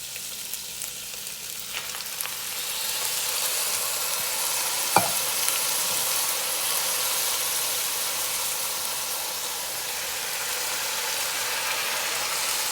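Two cans of diced tomatoes, seasoned with basil, garlic and oregano, are stirred into a chicken and rice soup with a soft, continuous sizzling wash and one sharp utensil clink partway through.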